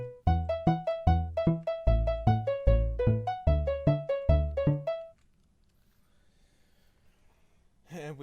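Minecraft note blocks play the melody of a song, a bright plucked tune of repeated notes over a thumping bass pattern for five seconds, then near silence before a short burst of sound at the end.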